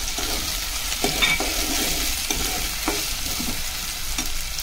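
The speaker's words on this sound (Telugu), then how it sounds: "నెక్స్ట్ వచ్చేసి పచ్చిమిరపకాయలు వేసుకున్నా ఫ్రెండ్స్, వచ్చేసి కరివేపాకు వేసుకుంటున్నాను" Green chillies and curry leaves crackle in hot oil for tomato curry, a dense close sizzle punctuated by several rhythmic spatula strokes against the pan.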